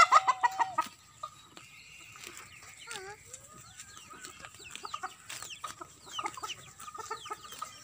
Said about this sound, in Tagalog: It's just a chicken.